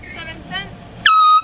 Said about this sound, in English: Did you hear the air horn?